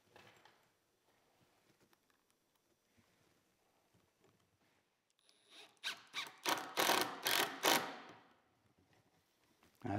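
A screw being driven with a Phillips head bit into a router table with a cast iron top, a few seconds of quiet prep then a loud rising squealing whir of the driver in short pulses.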